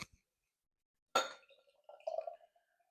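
A bottle of Samuel Adams Alpine Spring lager being opened, a sharp close cap pop and hiss followed by faint glassy clinks and a short gurgle of liquid.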